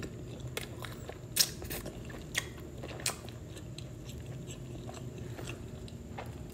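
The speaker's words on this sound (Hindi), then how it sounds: "Let's have the first bite." Spicy soya chunk pav bhaji is bitten and chewed close up, with a few faint, sparse crunches and clicks over a quiet, steady background.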